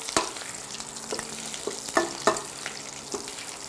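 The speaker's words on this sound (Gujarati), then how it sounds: "એને થોડા સાંતળીએ છીએ આપણે. કાજુ જોડે." Boiled potatoes and cashews sauté in a hot oiled pan, a steady sizzle broken by scattered scraping stirs and light clinks of a spoon, close and moderately loud with no talking.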